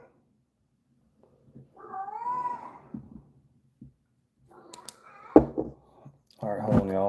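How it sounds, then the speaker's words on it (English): An agitated cat yowls and caterwauls indoors, with long drawn-out wavering meows broken by pauses and a few thumps, ending in a louder howl; some quiet talk is heard underneath. "My cat's over there going crazy."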